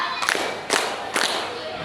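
A group of students in a guidance counselling session claps in unison three times, each sharp, loud clap evenly spaced about half a second apart.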